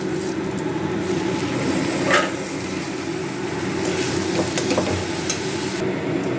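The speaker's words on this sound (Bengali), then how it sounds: "এবার চালটা দিয়ে দিচ্ছি" Gobindobhog rice tipped into a hot pan with fried, cracked cardamom for pulao, giving a steady sizzling fry with a brief scrape of stirring partway through, loud and continuous with no talk.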